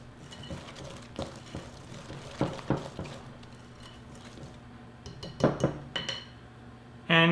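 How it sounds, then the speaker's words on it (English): A wire whisk works flour into zucchini bread batter in a bowl, giving irregular clinks and scrapes against the bowl that come in uneven bursts over a steady background hum. "I am using a wire whisk because it is more sturdy than my silicone whisk"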